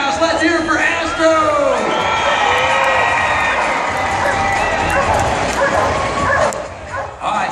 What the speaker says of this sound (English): All the kids in the house, let's hear it for Astro